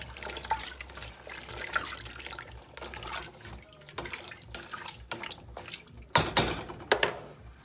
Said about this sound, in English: Okay, we added more water.